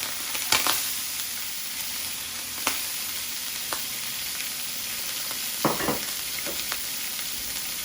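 Onions fry in a pan for ackee and saltfish, a constant close sizzle broken by a few sharp stirring scrapes and clicks, no speech.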